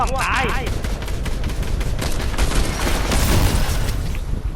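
Fortnite gunfire, rapid repeated shots and booms running steadily throughout, loud and close, mixed under excited talking voices.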